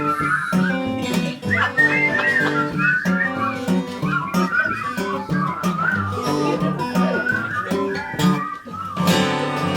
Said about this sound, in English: Great whistling there